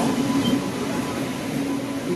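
A sleeper train bound for Mangalore pulls into a station with a continuous low rumble and mechanical drone, while voices murmur faintly in the background.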